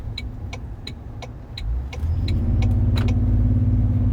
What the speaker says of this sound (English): it really sounds like a TRD Pro exhaust